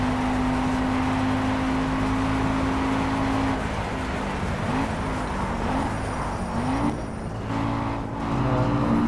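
250cc go-kart engines racing around a track, a continuous buzzing engine drone with pitch rising and falling as karts accelerate and pass nearby.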